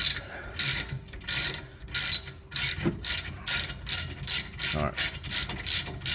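Ratchet wrench cranking a bolt during a rear brake change on a 2018 Jaguar F-Pace S, a rapid run of loud, close metallic clicking bursts in a steady rhythm, with a brief spoken word partway through.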